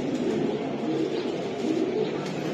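A racing club pigeon coos in low, throaty rolling notes under a steady hum of outdoor loft noise, heard close and moderately loud.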